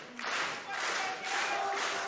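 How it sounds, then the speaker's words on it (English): A wrestling crowd at a live event in Melbourne cheers and claps in broad, surging waves of roaring noise that swell and dip over a couple of seconds, filling the arena with dense, indistinct applause. "This crowd is electric tonight."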